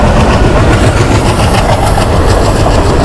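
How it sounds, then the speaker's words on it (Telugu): A train rumbles steadily past at a railway crossing near the Pamban bridge on the road from Rameshwaram, loud and close, with rhythmic clickety-clack of wheels over rail joints throughout and no voices. "ట్రైన్ వస్తుంది, ట్రైన్ చిక్ బండి వస్తుంది"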